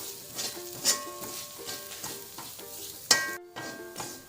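Half a cup of grated coconut fries with chili in a pan for a Kerala jackfruit dish, sizzling softly and steadily while a spoon scrapes and stirs in repeated strokes, close and fairly quiet.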